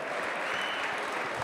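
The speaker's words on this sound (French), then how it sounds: "Jean-Marc Mormec, je voudrais qu'on applaudisse" Audience applause at a gala fills the room, a dense, steady wash of clapping from a large crowd throughout the short stretch.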